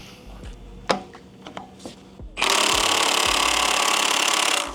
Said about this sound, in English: see if the Milwaukee is going to take this crank pulley bolt off